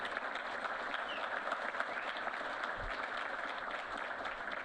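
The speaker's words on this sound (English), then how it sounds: "Let's give them a round of applause." A hall audience applauds for two state senators at an awards evening, steady broadband clapping held at an even level throughout, moderately distant, with no voices standing out.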